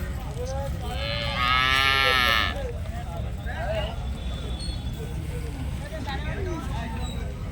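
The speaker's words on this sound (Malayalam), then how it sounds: "പശു മൂര്യകൾ വളർത്തു പശുക്കൾ വളർത്തു പശുക്കളൊക്കെ" Cattle at the Vaniyamkulam cattle market give one loud, drawn-out moo, followed by fainter, shorter lowing calls over a steady low crowd rumble.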